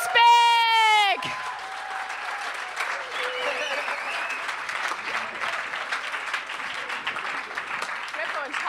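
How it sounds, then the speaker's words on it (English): A crowd at a Startup Weekend Stuttgart final pitch event applauds a team, steady dense clapping that follows a loud voice at the start and carries on evenly at moderate volume. "give the team again a big round of applause"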